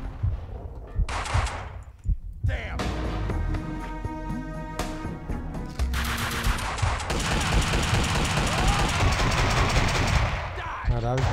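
Video game gunfire from Max Payne 2 on a construction site, with loud, repeated shots and rattling bursts coming in clusters across several seconds. A voice may be faintly mixed into the chaotic game sounds.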